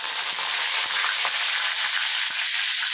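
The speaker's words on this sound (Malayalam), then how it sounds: "കടുകെല്ലാം പൊട്ടി വന്നു, കരിവേപ്പിൻ്റെ ഇലട്ട് കൊടുക്കാം" Curry leaves hiss and spit in hot coconut oil just after mustard seeds have popped, a steady loud frying sizzle with scattered crackles, close by and without voices.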